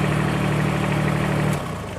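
A 2019 Kubota BX2680 compact tractor idles with a steady low diesel drone that drops off near the end, with no talking.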